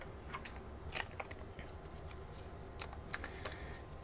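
Typing on a corded computer keyboard at a coin-sorting desk: scattered key clicks in uneven bursts, close and moderately loud over a low steady hum, with no talking.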